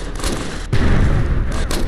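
A bomb goes off in State of Decay, a heavy booming blast that erupts suddenly after a brief quieter stretch of game noise and holds loud and close to the end.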